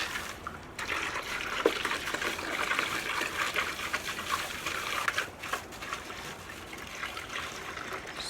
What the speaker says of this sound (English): So you can just take an empty container of water or a gardening can or something and then fill it up.